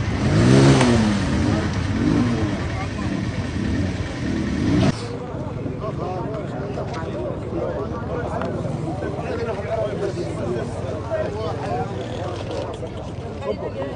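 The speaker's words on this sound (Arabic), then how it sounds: "غادي نخليكم تسمعوا الصوت ديال السوق والرحبه كيف ما هي" A busy outdoor motorcycle market with several motorcycle engines revving and idling, a loud rev early on, and a crowd of voices murmuring throughout.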